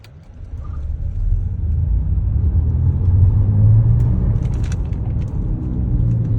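A 2023 BYD Yuan Plus Flagship, with 204 horsepower, accelerates gently from a standstill; a low, steady road rumble and motor whir swell quickly and then hold, heard from inside the car without talk.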